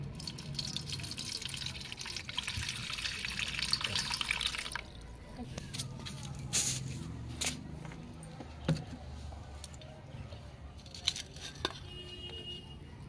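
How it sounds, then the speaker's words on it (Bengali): Peeled roasted potatoes get washed in water, with running water for the first few seconds, then scattered drips, knocks and splashes, close and fairly quiet. "এইভাবে আলুগুলোকে জল দিয়ে ধুয়ে নিতে হবে।"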